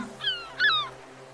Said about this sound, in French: Tiens, le son d'une mouette.